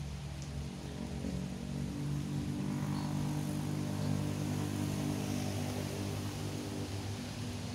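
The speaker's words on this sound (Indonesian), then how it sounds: "Hujan, bro. Tunggu hujannya reda," Steady rain falls around a fishing spot at a riverside, a dense continuous hiss that holds at even loudness over a low engine-like drone, with no talk.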